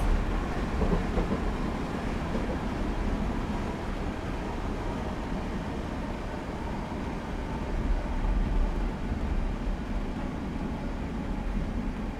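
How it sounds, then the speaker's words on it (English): A Class 321 electric multiple unit braking on the Witham to Braintree route in Train Simulator 2015, heard as a steady, loud low rumble and rolling rail noise running throughout with no talk. "I'll now apply the brakes."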